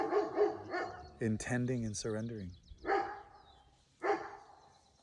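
Dog barking, a few sharp barks and yips heard under a calm speaking voice in an indoor setting, at moderate distance.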